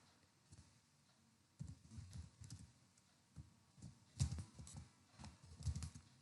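Keys click on a computer keyboard while an email address is entered, in short bursts of soft, close taps separated by brief pauses. The typing is fairly quiet, with no one talking.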